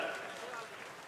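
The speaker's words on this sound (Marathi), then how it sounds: "टाळ्या वाजल्या पाहिजे जोरदार." Crowd applause at a Shiv Sena rally in Pimpri Chinchwad where Aaditya Thackeray appears, a dense, steady wash of clapping that holds throughout at moderate level.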